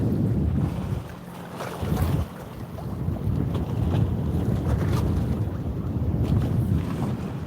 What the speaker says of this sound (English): This is the Great South Bay, where it's very choppy here because of the wind.